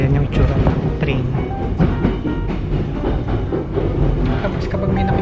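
An ITX passenger train in Korea rumbles along toward Gapyeong station, a constant loud interior roll with faint rhythmic clatter of the wheels on the rails.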